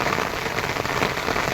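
Heavy rain pours steadily outdoors where goats are grazing, a dense, even hiss of drops drumming on surfaces, close and continuous with no voices.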